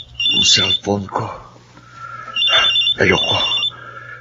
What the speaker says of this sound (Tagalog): Ang cellphone ko.